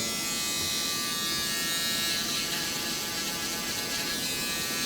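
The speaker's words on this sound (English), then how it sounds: "The shaver on the bottom." An electric shaver buzzes steadily and close up as it trims the bottom of a fade haircut. The whirring drone continues unbroken throughout, with no talking.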